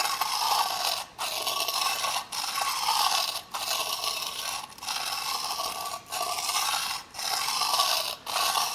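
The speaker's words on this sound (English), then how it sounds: "Give it a few strokes." A knife blade is drawn over a 400 grit sharpening stone in about eight regular scraping strokes, each roughly a second long and separated by short pauses, close and fairly quiet with no talk.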